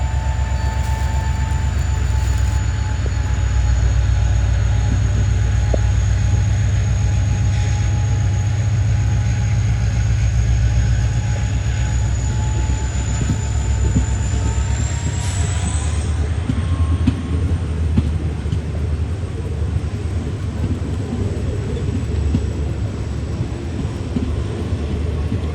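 A train rolls steadily past Pattikkad railway station with a continuous loud rumble of wheels on rails, a high sustained squeal running through it that shifts in pitch partway, and no talking.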